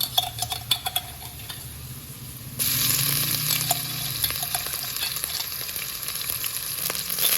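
Onion frying in a pan with garlic and ginger paste added, a steady close sizzle that jumps louder partway through as the paste hits the oil, with occasional utensil clicks and stirring.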